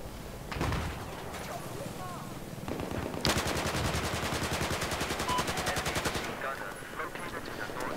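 Rapid automatic gunfire in the video game Battlefield 4, a sustained burst of evenly spaced shots after scattered single cracks, with a voice talking over the firing.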